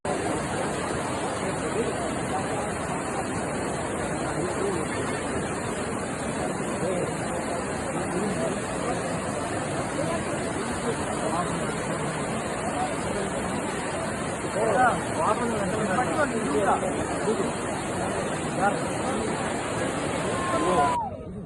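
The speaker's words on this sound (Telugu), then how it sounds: "ఇదేమో వాటర్ వాటర్ ఫాల్స్ దగ్గరకు అయితే వచ్చారు" A waterfall roars in a steady, even wash of rushing water, with a crowd of visitors chattering throughout and a few louder voices near the end.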